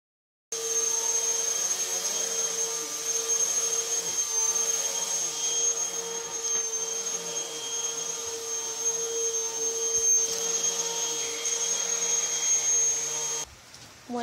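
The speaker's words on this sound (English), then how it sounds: "my mom's about to vacuum" A household vacuum cleaner runs steadily indoors with a constant tonal whine and motor drone, fairly loud and close, holding for about thirteen seconds before cutting off near the end.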